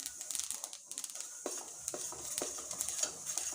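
Sesame seeds roast in a pan, stirred in quick, faint scraping and rattling strokes over a soft sizzle, close by and quiet, with no speech.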